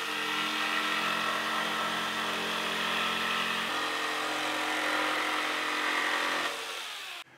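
Power saw cutting maple plywood oversized for a bathroom wall shelf gives one continuous, loud, close whine that holds steady for about seven seconds and then spins down.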